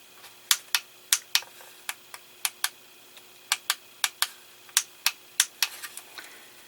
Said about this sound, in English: Should be able to hear the switches click on this now.